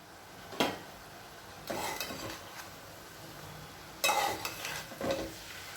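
Two bursts of scraping and stirring amaranth greens in a frying pan, with soft sizzling underneath, separated by a quieter pause.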